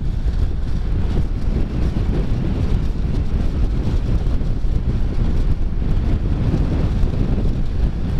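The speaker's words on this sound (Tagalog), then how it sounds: "Grabe, pasalubong yung hangin" A strong headwind pounds the microphone during a motorcycle ride, a loud, unbroken low rumble of wind noise with no voices over it.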